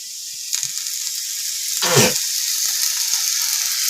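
Wheat flour roti fries on an iron tawa as oil is added, a close sizzle that flares loudly around the middle and settles into a steady crackling hiss.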